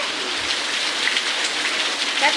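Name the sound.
rain falling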